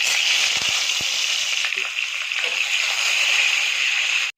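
Tomato sizzling loudly in hot oil with a dried chilli and nigella tempering, a dense continuous crackle and hiss with a few low knocks near the start, and no voices.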